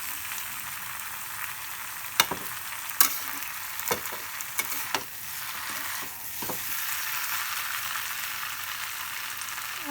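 Potatoes and vegetables frying in a pan for a Maithili dalna curry, a constant hissing sizzle broken by several sharp scraping clicks of a spoon stirring against the pan.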